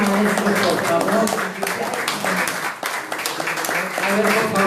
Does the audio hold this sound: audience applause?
yes